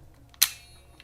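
A Kodak half-frame film camera fires its shutter with a single sharp, close click and no flash, followed by a short mechanical tail in an otherwise quiet room.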